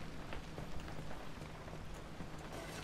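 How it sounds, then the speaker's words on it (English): Steady rain patters outside a garage in the video game Pacific Drive, a dense continuous hiss of drops with faint scattered pops, fairly soft and even for the whole stretch. "Sitting in the garage, fixing my car, and it's raining out."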